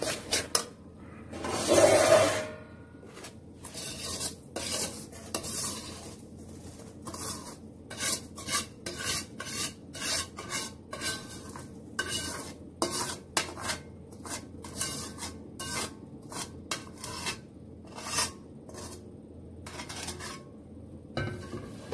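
Roasted semolina is scraped out of a pan into a dish with a metal utensil, making repeated rasping, rubbing strokes and occasional clinks of metal on cookware, close and unaccompanied by talk.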